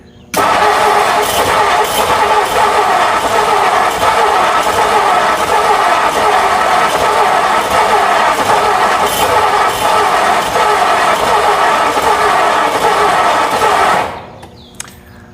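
The starter cranks continuously and loudly for about fourteen seconds on a 1957 Thunderbird that sat off the road for 35 years and may be flooded. The engine churns without catching, then the cranking cuts off abruptly.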